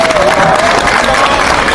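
Dense, steady clapping from a crowd, continuous and fairly loud throughout, with a faint tone running beneath at the start.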